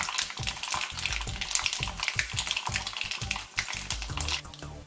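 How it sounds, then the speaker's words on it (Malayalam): Mustard seeds splutter in hot oil for a Kerala-style dates and lemon pickle, a rapid, irregular crackle of close, sharp pops over a continuous frying hiss. "എണ്ണ ചൂടാവുമ്പോൾ അതിലേക്ക് കടുകിട്ട് കൊടുക്കാം."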